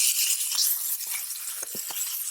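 Food sizzling over an open campfire, a steady broadband hiss with occasional soft pops and crackles, fairly close and continuous, no talking.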